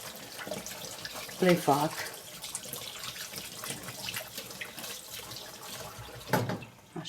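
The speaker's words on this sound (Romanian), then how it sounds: "Eu acum mă spăl pe mână ca să pot să" A kitchen tap runs steadily while hands are washed beneath it during no-bake dessert making, a soft continuous splashing rush with brief louder splashes, as someone talks over it.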